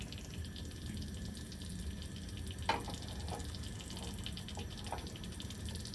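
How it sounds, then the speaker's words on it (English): Water boiling off heated hydrate crystals in a lab setup makes a steady hissing, bubbling sizzle, with a few brief pops and splatters rising from the continuous frying-like wash. "we're actually boiling that water off"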